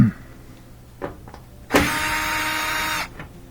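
A power screwdriver backs screws out of the corner of a front-load washer, a few small clicks followed by a steady close motor whir lasting about a second and a half, then stopping.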